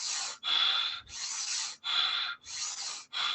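Breath of fire yoga breathing: rapid, forceful nasal exhales, about six rough breathy bursts at an even rhythm, close and fairly quiet, with no talking.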